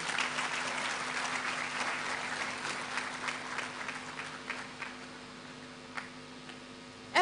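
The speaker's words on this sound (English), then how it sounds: "A better round of applause for her" Audience at a matriculation ceremony applauding in a hall, dense clapping at first that thins into scattered individual claps over several seconds, with a low steady hum underneath and a sudden louder sound at the very end.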